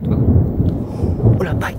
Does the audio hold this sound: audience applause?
no